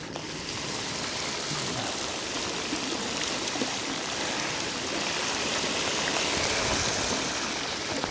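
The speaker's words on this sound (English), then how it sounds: "Wow, there's a massive puddle. I'm just about to go through." A vehicle ploughs slowly through a deep rainwater puddle on a wet road, giving a steady, full rush of splashing spray that lasts the whole stretch with no voices.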